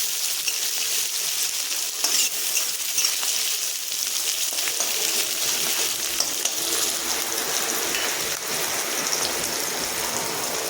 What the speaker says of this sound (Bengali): পেঁয়াজটা আমার ভাজা হোক